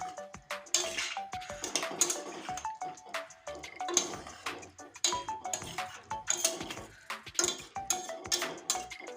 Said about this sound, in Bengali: আলু সয়াবিন মশলা একসঙ্গে আমি কষিয়ে নেব সুন্দরভাবে